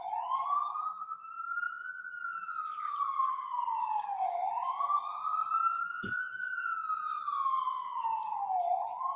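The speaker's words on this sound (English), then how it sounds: "There come the sirens." A wailing siren rises and falls in long slow sweeps, steady and moderately distant, with a brief sharp tap partway through.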